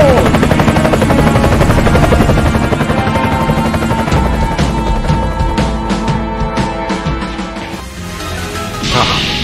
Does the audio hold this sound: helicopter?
yes